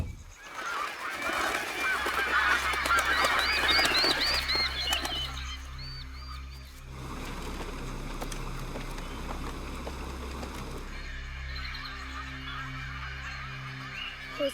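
Disturbed birds honking and squawking in a movie scene, a loud, dense overlapping chorus of goose-like calls with wing flapping that thins after a few seconds into a lower, steady din.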